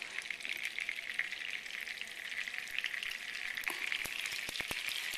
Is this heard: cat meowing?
no